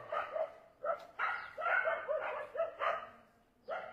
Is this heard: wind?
no